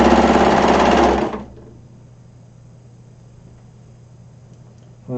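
A sewing machine runs steadily, stitching two curved fabric pieces together, loud and continuous for about a second before stopping abruptly, leaving a faint low hum and room quiet.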